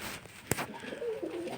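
Pigeons coo in a loft during nest-building season, soft throaty coos rising near the end, with a sharp click or rustle early on, fairly quiet and close.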